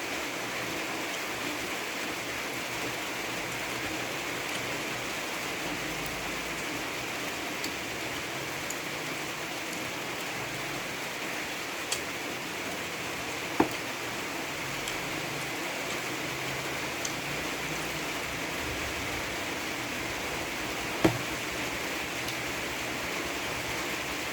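Steady rain hisses continuously, with occasional louder drips or taps standing out against the wash.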